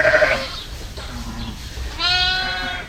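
Lambs bleat up close in a barn during lambing season, giving a short cry at the start and a longer wavering bleat near the end over quiet farm background.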